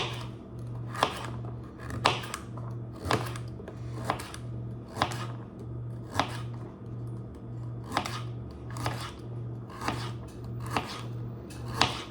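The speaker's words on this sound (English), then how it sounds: "Now we're gonna chop them up into little slices." Knife chopping two carrots into small slices on a cutting board, about a dozen crisp, evenly spaced chops roughly once a second, close and fairly quiet over a steady low hum, with no talking.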